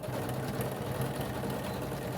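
A sewing machine stitches through layered fabric with a pocket piece and zipper while an infinity scarf is assembled, giving a steady, close, fast mechanical whir and rapid needle patter throughout.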